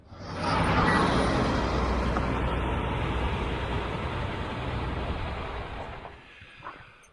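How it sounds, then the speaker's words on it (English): A logging truck passes on a road near a trout stream, a broad rushing roar that swells quickly, holds for several seconds, then fades away, with no voices. "that was probably the 6th logging truck we've seen come out of here in about the last half hour"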